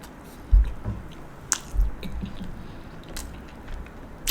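Someone chewing Banza chickpea noodles, eaten without utensils, making soft squishy mouth sounds with a few sharper bites, close to the microphone and with no talking.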